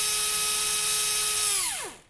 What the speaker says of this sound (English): you would drill a hole into the tree